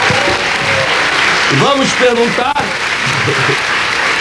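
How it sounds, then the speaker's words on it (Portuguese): A studio audience at the Brazilian TV comedy show Sai de Baixo claps steadily throughout, while someone speaks over it for the middle stretch. "Eu pediria então uma salva de aplausos para a xereca"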